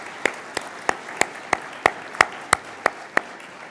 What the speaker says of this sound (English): Let's give a big round of applause to the University Covenant Church for hosting in their beautiful facility.